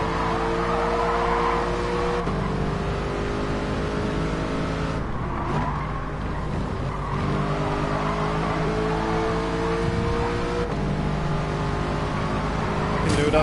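Race car engines in the Gran Turismo 7 game, including a Toyota Supra, drone and shift through gears continuously, with rising and falling revs and occasional tire squeal throughout.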